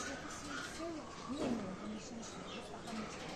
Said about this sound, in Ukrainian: Ось така папуга, вона не одна, хвиляста папуга.